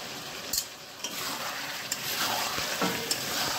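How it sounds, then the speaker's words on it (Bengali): Chicken pieces fry lightly in a pan with salt for chicken kosha, giving a steady close sizzle broken by occasional sharp scrapes of stirring. "চিকেনটাকে এবারে আমি হালকা ভেজে নেব।"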